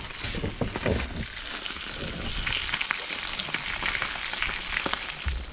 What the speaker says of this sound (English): we've got our mackerel frying away nicely